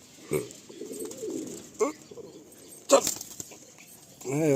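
Madrasi Malwai pigeons give a few short, throaty coos and bursts of calls close by, spaced apart over a quiet background, with a louder warbling coo at the end.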